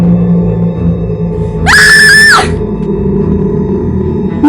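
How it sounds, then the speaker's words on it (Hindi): A woman lets out a single loud, high, sustained scream lasting under a second within a Hindi horror audio drama, cutting sharply through a low, rumbling ambient music bed. "वो जोर जोर से चिल्लाती है।"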